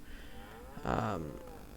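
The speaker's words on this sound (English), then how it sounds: "I just bought some cows not too long ago here." Cattle on a farm give a single loud, drawn-out moo from close by, rising and falling over about half a second, with quiet outdoor background before and after.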